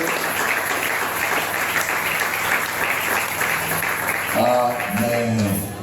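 A church congregation claps in a dense, steady round of applause that holds for several seconds, then a voice begins speaking over the tail end.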